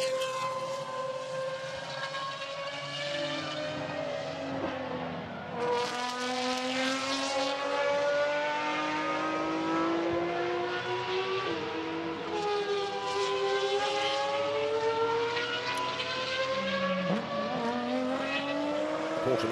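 Pagani hypercars lap a racetrack in a GT1 demonstration run, high-revving engines rising and falling as cars pass by one after another, loud and continuous with overlapping whines and gear changes.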